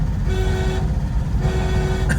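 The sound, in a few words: long car horn honk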